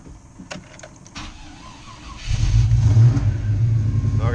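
A carbureted Bedford CF van engine revs with the throttle held open: faint clicks and a mechanical whir at first, then the engine swells into a loud, sustained rumbling rev.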